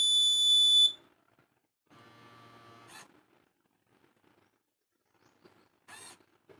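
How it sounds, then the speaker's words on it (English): An obstacle-detector buzzer for blind persons gives a loud high beep, then a longer lower buzz and short bursts, separated by near silence. "it is giving two buzzers with a long distance, means long sound"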